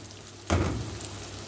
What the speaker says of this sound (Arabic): لازم اسوي السوسيس كويس اوي اوي على النار، عشان لما بيتحمر بيبقى حلو اوي اوي